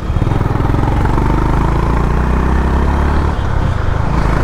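Honda CB350 H'ness motorcycle engine running steadily up close, a loud, continuous low thumping drone with a slight dip in tone near the end, no talking.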